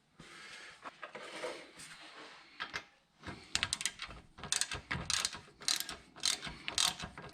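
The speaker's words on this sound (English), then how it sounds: "I'm going to give it a few turns with a socket." A ratchet socket turns a bolt into the wheel hub of a 2016 Nissan Rogue with a loose hub. Short runs of rapid, close mechanical clicking grow louder and denser in the second half, with no talking.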